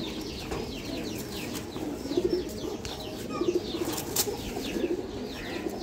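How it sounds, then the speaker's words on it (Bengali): A flock of pigeons kept for flying coos in soft repeated bursts nearby, with scattered chirps and occasional wing flaps in the background, no talking. "আমরা আজকে আমাদের কিছু ভালো কবুতর, বেস্ট কবুতর দেখাবো"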